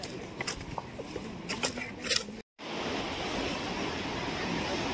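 Aagaya Gangai Falls in the Kolli Hills roars as a steady, dense rush of falling water, loud and continuous after a brief cut, preceded by a few seconds of quieter outdoor noise with faint clicks.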